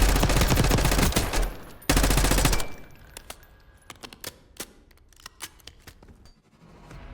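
Rapid automatic fire from an XM4 rifle with a 60-round build in Black Ops 6, two loud sustained bursts close up, then scattered single shots and clicks trailing off into quieter game sounds.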